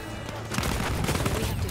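Rapid gunfire from Battlefield 1 beta multiplayer, a dense, continuous crackle of shots and bursts throughout, loud and close, with overlapping reports and no talk.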